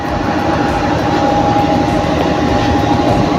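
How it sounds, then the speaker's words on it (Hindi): The 214 Down Mohenjo-daro Express departs Bhan Sayadabad railway station with a steady, loud rumble of rolling carriages and a sustained engine drone, close by and unbroken. "ड्यू टाइम के बाद 214 डाउन मोहनजोदड़ो एक्सप्रेस आगे चलने के लिए तैयार।"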